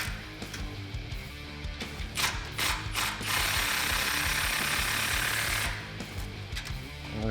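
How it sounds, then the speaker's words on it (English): An impact wrench tightens exhaust flange nuts during a Borla Touring cat-back exhaust install on a 1999-2004 Mustang GT. It gives a few short rattling bursts, then one sustained loud hammering run, close up with no talking. "and hit it with the impact."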